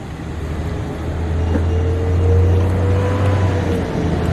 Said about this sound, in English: And then Premier dryers.